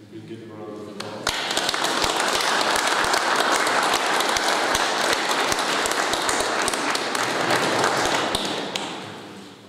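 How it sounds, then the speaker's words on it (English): Wedding guests at a church ceremony burst into a round of applause after a brief quiet start, the clapping building quickly and holding loud and dense before easing off at the end. "If you can give them a round of applause."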